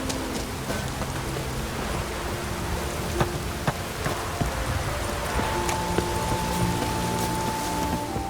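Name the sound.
rain falling in the video game The Witcher 3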